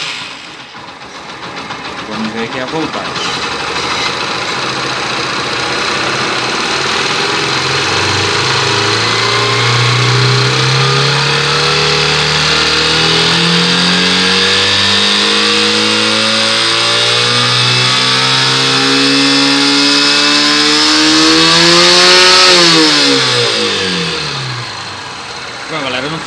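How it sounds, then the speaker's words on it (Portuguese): A Yamaha Factor YBR 125 ED (2013) motorcycle engine with an undercharging fault runs steadily close by, its pitch rising and falling as the throttle is blipped, with a brief voice speaking over it. "vamos funcionar a motocicleta"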